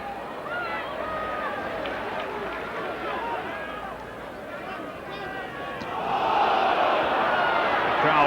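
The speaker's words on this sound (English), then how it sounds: "Crowd shouting for a forward pass" A rugby league crowd at a 1998 Challenge Cup fourth-round match between Leeds and Castleford shouts and clamours from a distance, a broad roar that swells noticeably louder toward the end.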